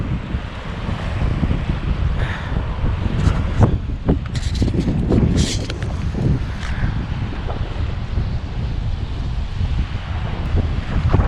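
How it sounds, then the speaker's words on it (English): Heavy wind buffets the microphone with constant low rumbling gusts at a park near the Humber Bridge, Yorkshire, a few brief clatters and rustles poking through. "It's quite windy. I don't know if you can hear me."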